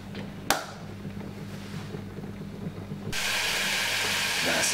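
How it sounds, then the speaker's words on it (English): Sliced white onion sizzles in a hot pan with a steady hiss, the frying growing louder and brighter partway through, with a brief clatter near the start. "we're just gonna be frying off this for about 3 to 4 seconds."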